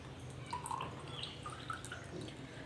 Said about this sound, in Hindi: और इसमें हम डालेंगे ठंडा पानी।